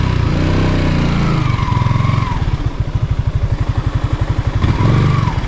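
Motorcycle engine idling and puttering close by as the bike is eased into a parking spot, its steady low rhythmic chug running throughout with slight throttle changes and no talk.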